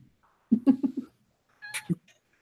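A pet cat meows in a few short, close calls: a quick run of four clipped cries, then a pause and a higher, thinner yowl, with no talk over them.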